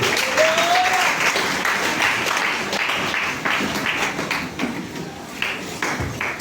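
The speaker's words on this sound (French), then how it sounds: "Assieds-toi en acclamant la parole de Dieu." A church congregation applauds during a French-language Sunday worship service, a steady, dense wash of clapping with scattered louder hand taps that carries on for the whole stretch without pause.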